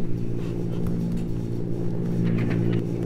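Tails' plane in Sonic Adventure drones with a steady, loud engine rumble while flying through the sky, a constant low hum with no breaks and no voices over it.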